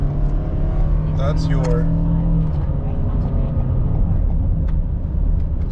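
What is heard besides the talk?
2021 Toyota Sienna LE Hybrid van accelerating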